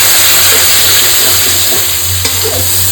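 Cumin paste and water stirred in a cooking pan for a catla fish head dish. A steady, loud, close sizzle runs throughout, with faint scraping of the stirring.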